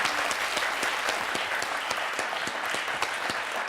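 Studio audience applause on a French television quiz show, a steady dense clapping that fills the whole stretch evenly and fairly loud, with no talk over it.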